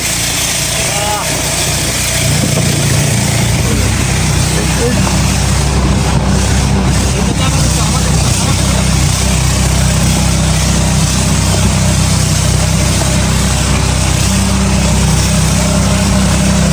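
A loud, steady motor drones throughout, a boat engine running on the shallow Matamuhuri river, with a low rumble that starts suddenly near the beginning.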